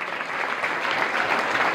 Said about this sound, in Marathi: जरा एकदा जोरदार टाळ्या होऊ द्या.